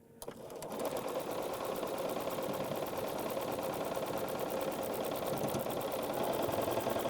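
A sewing machine stitches a quilt block in a steady, rapid mechanical whir that starts after a brief pause and then runs evenly and close by for several seconds.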